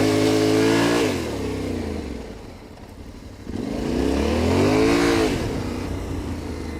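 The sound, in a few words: Yamaha Tenere 700 motorcycle engine revving while drifting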